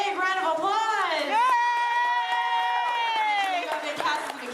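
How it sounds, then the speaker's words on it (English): A live audience at a Walt Disney World or Disneyland show bursts into loud, sustained cheering and whoops for a volunteer named Mitchell, rising and falling over several seconds. "Everyone, please give Mitchell a big round of applause!"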